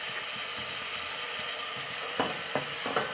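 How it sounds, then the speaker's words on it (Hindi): Garlic fries in a pan with onion, making a steady, moderate sizzle that runs throughout, with a few soft stirring knocks near the end. "अब हम इसके अंदर लहसुन डालेंगे।"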